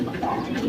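Young pet bird, off-colour in plumage, gives a soft, low cooing close by, a brief continuous murmur with no voices over it.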